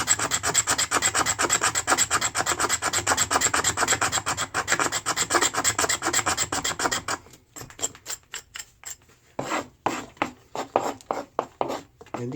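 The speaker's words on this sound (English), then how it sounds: "I'm going to continue now and get some more of this shavings off" A blade scrapes shavings off resinous fatwood pine in rapid rhythmic rasping strokes, close and dry, first continuous, then slowing into separate short scrapes with brief pauses.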